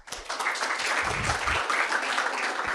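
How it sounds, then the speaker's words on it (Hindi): An audience of students claps steadily for nearly three seconds, a brisk, even patter of many hands, with a couple of low thumps underneath. "ये पीछे से ताली बजा रहे हैं पूरा"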